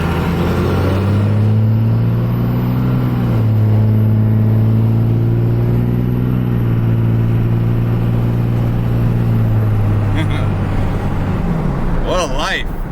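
A loud diesel truck drives along with a heavy, steady low engine drone and a deep harmonic hum that holds for most of the stretch before loosening and fading near the end.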